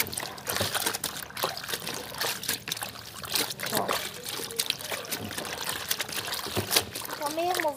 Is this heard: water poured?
yes